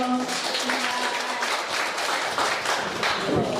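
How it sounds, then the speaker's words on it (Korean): Audience applause at a Korean selection review presentation, a steady, dense patter of many hands clapping throughout, moderately loud and close, with a few faint tonal sounds early on. "다시 한번큰 박수 드리겠습니다"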